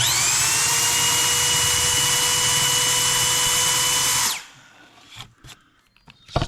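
A power drill bores a hole for a washer and nut during a woodworking build, a loud steady whine with a falling pitch as it stops, followed by faint handling clicks.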